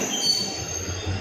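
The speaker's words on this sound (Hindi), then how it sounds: "इस समय हल्द्वानी रेलवे स्टेशन पर रानीखेत एक्सप्रेस दिल्ली से चल के हल्द्वानी पहुँची है।" Ranikhet Express from Delhi pulling into Haldwani railway station, a steady low rumble of rolling wagons with faint high wheel squeal running through the whole stretch, moderately loud and without speech.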